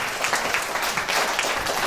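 Audience applause at a live acoustic music show fills the room with dense, sustained clapping, steady and fairly loud throughout.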